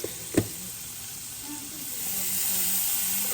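Minced garlic sizzles in a hot pan, a soft steady frying hiss that swells slightly toward the end after a couple of light knocks at the start.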